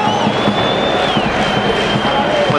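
A stadium crowd at a UEFA Cup football match between Zenit and Villarreal applauds goalkeeper Vyacheslav Malafeev, a dense, steady wash of clapping and cheering with a commentator's voice over it.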